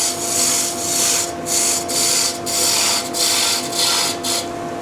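A wood turning tool cuts bulk from a birch skittle spinning on a lathe, giving a loud, close, continuous rasping hiss that swells and dips in a steady rhythm of passes, with no voices.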